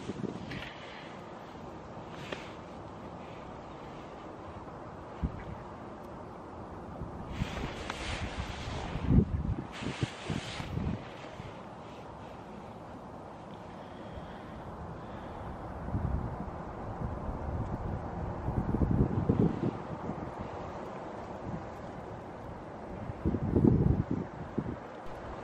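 Gusty wind blowing across a lakeside fishing spot during feeder fishing, a steady rumbling buffet on the microphone that swells in several stronger gusts, with no talking.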